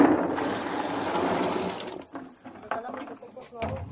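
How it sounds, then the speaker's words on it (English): Ripe coffee cherries pour into water with a rushing splash for about two seconds, followed by quieter sloshing while people talk nearby. "place the ripe coffee into the water so that we may remove the low quality and ripened beans"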